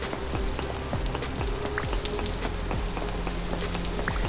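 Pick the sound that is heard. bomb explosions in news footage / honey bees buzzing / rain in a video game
rain in a video game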